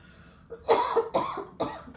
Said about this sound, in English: I'm sorry, I have to cough again